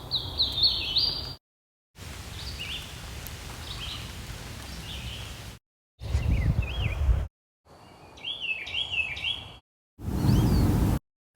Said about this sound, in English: here's a highlight of cool birds I heard during this challenge